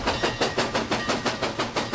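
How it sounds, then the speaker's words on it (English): A 1926 St. Louis-San Francisco Railroad 1500-series steam locomotive runs along, giving off a fast, even series of about eight loud chuffs in two seconds, close and alone. "This steam engine was built back in 1926 as part of the St. Louis-San Francisco Railroad's 1500 series"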